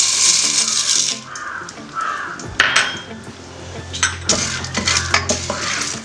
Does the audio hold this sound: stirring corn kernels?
yes